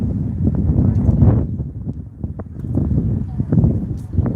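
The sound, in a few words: wind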